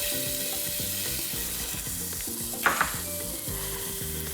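Chopped onions dropped into hot coconut fat in a pan, frying with a steady close sizzle and a couple of brief sharp clinks or scrapes partway through; a low tonal hum runs underneath throughout.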